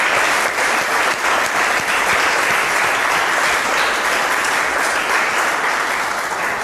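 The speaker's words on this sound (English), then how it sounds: "Please clap for him." A classroom full of students clapping, steady dense applause that holds at an even level throughout.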